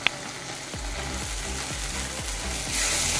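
Eggplant curry (beguner jhal) sizzles in a pan while a spoon stirs it in quick, regular scraping strokes about three times a second, with the frying hiss growing louder toward the end.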